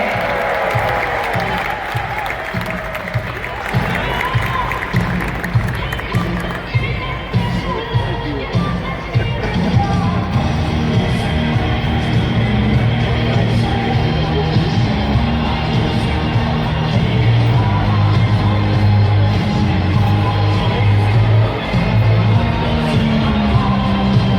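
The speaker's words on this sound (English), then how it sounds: "Let's give another round of applause for our drivers and horses today." A large crowd applauds and cheers for the drivers and their Clydesdale draft horses at a public exhibition, a dense, steady wash of clapping with scattered shouts that swells and holds throughout.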